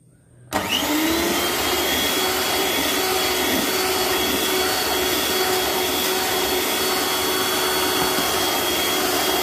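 An electric mixer beating eggs and sugar into a cream for chocolate truffle cake batter starts abruptly and then runs as a loud, continuous, steady whirring drone for the rest of the time, with no talking.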